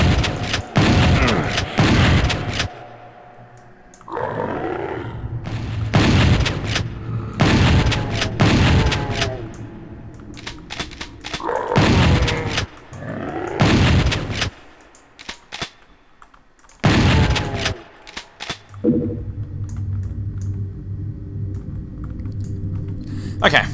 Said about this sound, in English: So we'll just snipe them off with the single shotgun.